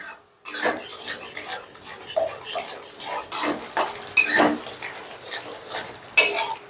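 Spice paste for a pointed gourd korma stir-fried over raised heat, a spatula scraping and clinking against the pan in repeated close strokes with a faint sizzle beneath, steady and fairly loud.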